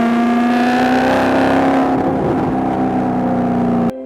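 A Maserati Gran Turismo S engine holds a loud, sustained rev with a strong steady tone that dips briefly near the middle, then cuts off abruptly near the end, with no voices over it.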